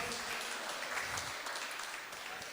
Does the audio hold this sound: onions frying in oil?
no